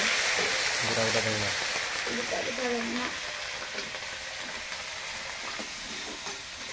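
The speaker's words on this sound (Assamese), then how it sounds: "মাছখিনি তেলতে ভাজি লৈছোঁ পিঁয়াজ আৰু মাছ জলকীয়া" Fish frying in oil with onion and green chili gives a continuous loud sizzle that eases slightly over time, with some brief tonal background sounds near the start.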